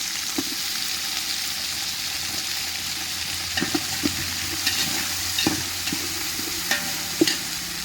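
Vegetables and chopped tomato sizzle and crackle steadily in a hot pan while cooking biryani, with occasional scrapes and clinks of a utensil stirring them, close and moderately loud.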